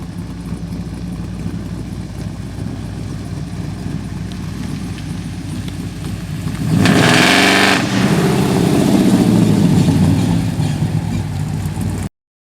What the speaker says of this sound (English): 2001 Dodge Dakota RT. Stomp on that throttle and unleash your inner child.